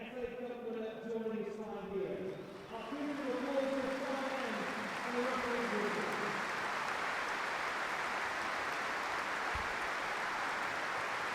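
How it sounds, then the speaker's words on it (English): Stadium crowd at Anfield applauding during a Premier League match, a broad sustained roar of clapping that swells after a few seconds of talk and then holds steady, with a commentator's voice heard at the start. "a moment of applause"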